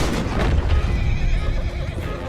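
Horse in Red Dead Redemption 2 whinnies loudly up close, with clip-clopping hooves and dense rumbling game ambience beneath it.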